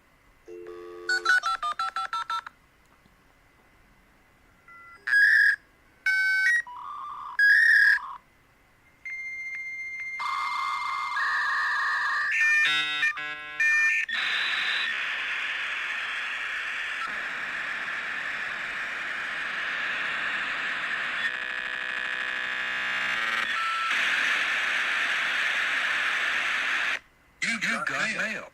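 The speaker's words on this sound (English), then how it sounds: "That sound was AOL dial-up internet connection." AOL dial-up internet modem connecting: DTMF dialing tones and beeps, then screeching handshake tones and a long hissing static carrier, loud and alone.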